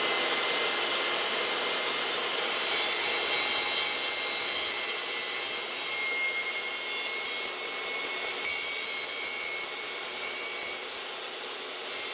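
A saw undercuts a door frame at the end of a building job, giving a steady high whirring grind that runs close and unbroken for the whole stretch, with no speech.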